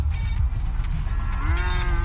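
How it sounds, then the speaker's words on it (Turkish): A cow moos in GTA V after a skin changer turns the player into one: a single drawn-out, low, close bellow with a rising pitch toward the end, standing alone without talk. "Ve mö diyebiliyorum."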